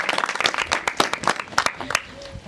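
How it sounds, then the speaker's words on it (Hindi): A room of people at a government schemes awareness camp claps for a child, a short burst of dense, fairly loud applause that thins out after about two seconds. "ताली बजाओ सब इसके लिए।"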